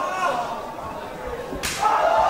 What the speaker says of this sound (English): You hear the sound of flesh and bone on steel there.